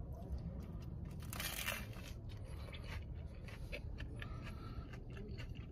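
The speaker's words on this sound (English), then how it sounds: "Here, listen for that crunch." Close, crisp crunching as someone bites into a slice of New York style pizza with a firm crust from a pizzeria in San Diego: a few dry, crackling bites and chews at moderate loudness.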